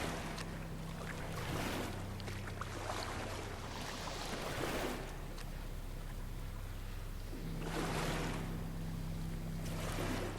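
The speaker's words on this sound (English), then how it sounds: "I know that's supposed to be the whisper of the water" Whispering water ambience filling a large echoing indoor pool room, a continuous hollow wash of sloshing water with low droning hum and surging swells that rise and fall, no voices.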